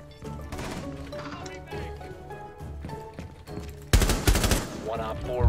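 Rainbow Six Siege gunfire from a 2v2 match against Diamond-rank players: loud bursts of rapid shots that swell sharply near the end, mixed with other game noise.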